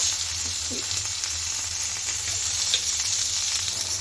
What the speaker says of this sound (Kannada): ಎಣ್ಣೆಯಲ್ಲಿ ನಾವು ಫ್ರೈ ಮಾಡಿ ತಗೋಬೇಕಾಗತ್ತೆ